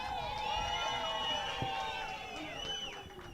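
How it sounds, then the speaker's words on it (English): A crowd at an artists' march cheers and whoops, with high voices shouting and rising over a steady roar of many people, fairly loud and sustained. "Big up applause for Usibongile."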